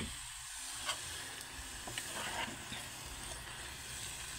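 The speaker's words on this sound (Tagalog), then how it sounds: "Ginisang laswa" Laswa vegetables with onion and garlic sautéing in a pan, a soft, steady sizzle with a few faint stirring scrapes, quiet and continuous.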